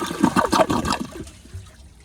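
A 1959 American Standard one-piece toilet siphons hard, a loud gulping, bubbling gurgle in quick bursts that fades to a quiet trickle by the end.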